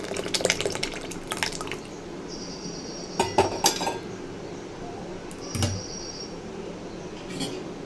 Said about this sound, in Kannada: ಮಜ್ಜಿಗೆನ ನಾನು ಮಾಲ್ಟ್ಗೆ ಮಿಕ್ಸ್ ಮಾಡ್ತಾಯಿದ್ದೀನಿ